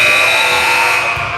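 A loud, sustained electronic buzzer blares in a high school volleyball gym during a JV and varsity match, a steady harsh tone holding for the whole stretch over faint crowd murmur.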